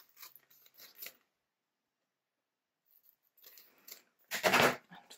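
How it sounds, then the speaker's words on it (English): Scissors trimming excess paper for an altered envelope pocket, soft snipping at first, then a pause and a louder crisp cut near the end, close and isolated with no voice. "I'm going to cut out the excess here"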